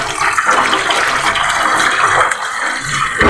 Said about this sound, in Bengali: সেদ্ধ করার পর ঢেলে নিচ্ছি